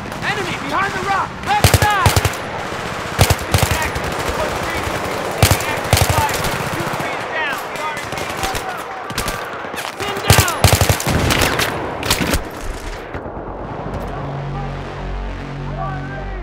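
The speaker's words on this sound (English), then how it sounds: "Vehicle down, taking fire from the left!" Sustained automatic gunfire and scattered shots in a Battlefield 3 ambush on a vehicle from a treeline, loud dense bursts throughout with shouted voices mixed in, easing toward the end.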